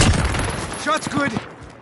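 Gunfire from the Call of Duty video game during a fight, a short burst of shots under a dense noisy combat backdrop with voices talking over it.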